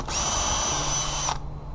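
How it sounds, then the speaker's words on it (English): A power drill whines steadily for just over a second, pre-drilling a hinge screw hole in a wooden fence gate, then spins down and stops. "Pre-drill. But not too big of holes."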